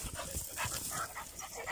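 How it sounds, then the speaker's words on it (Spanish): A small dog yips and whimpers close by in short, broken bursts mixed with panting. "Ahí está el perrillo."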